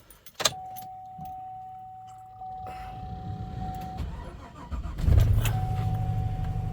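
A snow-covered car's engine cold-starts in a blizzard after keys jangle: a sharp crank and catch, a steady idle with a whining tone, then a second louder start that settles into a rough, revving idle, close up.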